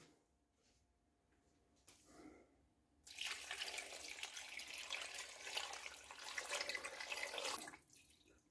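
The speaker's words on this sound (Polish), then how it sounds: "zalewamy wszystko wodą" Water pours steadily into a baking tray of broth ingredients for an oven-made chicken soup, a close, loud gushing stream lasting about four seconds after a few soft handling clunks.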